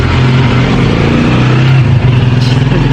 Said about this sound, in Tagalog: Nandito tayo sa harap kaya maraming sasakyan.